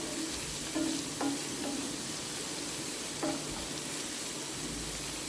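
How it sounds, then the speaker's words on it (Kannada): Urad dal with chopped onion and tomato sizzling in oil for a chutney, a constant soft frying hiss with a few clinks of a stirring spoon against the pan, close and quiet. "ಎಣ್ಣೆ ಕಾಯ್ತಿದ್ದಂಗೆ ಸ್ವಲ್ಪ ಉದ್ದಿನಬೇಳೆ ಹಾಗೆಯೇ 1 ಈರುಳ್ಳಿ ಮತ್ತು 1 ಟೊಮೆಟೊನ ಕಟ್ ಮಾಡಿಬಿಟ್ಟು ಹಾಕ್ಬಿಟ್ಟು ನೀಟಾಗಿ ಫ್ರೈ ಮಾಡಿ"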